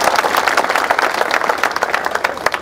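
A sizable audience at a public political rally in Mahendragarh claps loudly and continuously, with dense, crisp individual claps close by.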